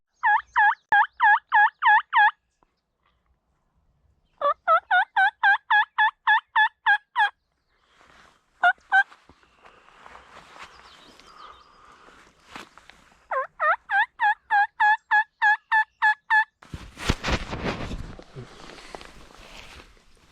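Wild turkeys gobble in three rapid, rhythmic bursts of rattling calls at moderate distance in the open, followed by rustling and shuffling movement close by.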